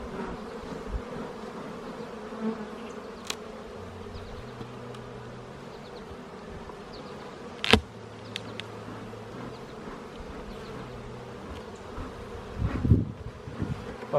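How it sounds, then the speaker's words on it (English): Bees swarm around an open beehive during a hive inspection, a steady, close buzzing hum that fills the whole stretch, broken by a sharp knock or two from the hive frames near the end. "Wow, lots of bees."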